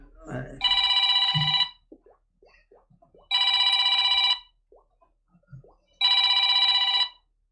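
A telephone rings three times in long electronic bursts, loud and clear, with a person talking briefly between the rings.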